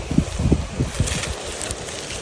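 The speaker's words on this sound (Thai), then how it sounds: "พี่น้องได้ยินเสียงลมบ่" Wind blows steadily outdoors in autumn woodland in Finland before snowfall, a continuous rushing buffet with low gusty rumbles, close and fairly loud, with no talking.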